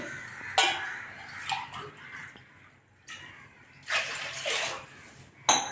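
Water pours in several separate bursts, splashing into a pan of roasted semolina for rava kesari with short pauses between each pour, close by.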